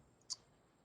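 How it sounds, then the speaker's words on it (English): A single quiet key press on a computer keyboard, the delete key, giving one short sharp click in an otherwise hushed room. "just hit the delete button on your keyboard"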